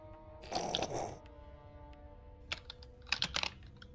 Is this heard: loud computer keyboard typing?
yes